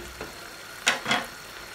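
Baila fish frying in a pan as it is gently stirred, giving three short, soft scraping bursts over a quiet, low background sizzle.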